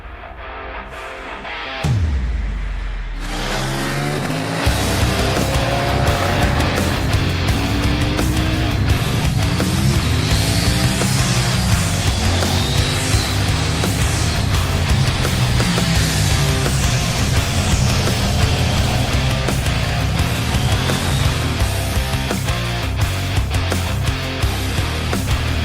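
A 2021 KTM Duke 890 motorcycle rides along after a brief low rumble at the start, its engine note rising and falling loudly with gear changes and throttle over constant wind noise.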